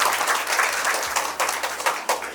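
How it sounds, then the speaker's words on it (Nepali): Guests at a Nepali Christian wedding clap together in a dense, steady round of applause that stays fairly loud throughout, with a few sharper bursts standing out, and no voices. "ल ताली बजाइदिनु"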